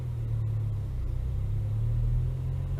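A Renault Twingo RS engine takes a little throttle at low speed during a driving lesson, a low, steady hum that swells gently, heard from inside the car with no talking.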